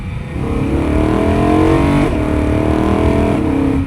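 A BMW E92 M3's engine revs hard after a multi-gear downshift, a loud, steady, rising wail with a brief dip midway before it climbs again, close and alone with no talk.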